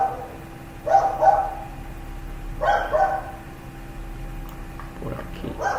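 A small dog barks in two or three short clusters, somewhat distant and moderately loud, with quiet room hum between the bursts.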